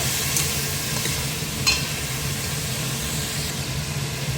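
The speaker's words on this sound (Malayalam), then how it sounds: "ഇതെല്ലാം കൂടി നല്ലതുപോലെ ഇളക്കി യോജിപ്പിച്ചെടുക്കുക." Soaked chickpeas stirred in a hot pan make a steady sizzle with a couple of brief, sharp spoon clicks against the metal.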